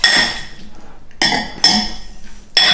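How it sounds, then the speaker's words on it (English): Metal utensil stirring onion, garlic, balsamic vinegar and mushrooms in a pan, with several bursts of scraping and clinking broken by brief pauses, close and fairly loud. "all we're going to do now is just give that a stir"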